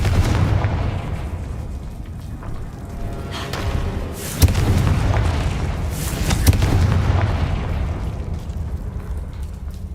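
A Confringo fire spell detonates in Hogwarts Legacy, producing heavy booming blasts with deep rumbling bass, loud and close, two big impacts standing out amid continuous crackling and rolling roar.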